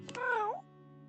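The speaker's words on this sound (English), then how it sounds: "meowing for his attention." A small black cat creature in the video game Date Everything gives a single clear, close meow, a rising-falling call of about half a second, followed by a quiet sustained musical backdrop.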